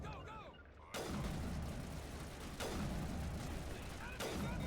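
Turret gunfire in Mass Effect rattles in sustained bursts, with sharp onsets near 1, 2.6 and 4.2 seconds and dense crackling between them, loud and continuous under faint game noise.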